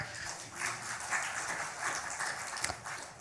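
Audience applause at the Infocom 2019 conference: a dense, moderately distant wash of clapping that holds steady for a few seconds.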